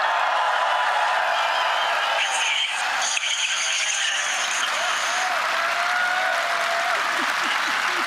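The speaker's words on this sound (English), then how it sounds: "that sounds like a big crowd, and that sounds like my kind of people" Large outdoor crowd cheers and applauds steadily and loudly at a JD Vance event in Budapest, a dense, continuous wash of clapping and voices with a few whistles or shouts rising above it.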